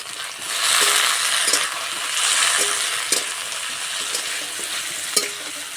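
Chopped onion and tomato fry in a pan with garam masala, giving a steady close sizzle with occasional stirring scrapes and ticks throughout, no voices.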